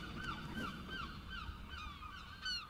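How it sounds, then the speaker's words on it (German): Seagulls in the video game Rime call repeatedly with high, squawking cries over a steady background wash of ambience, several birds overlapping at moderate distance. "Hier haben wir die Möwen."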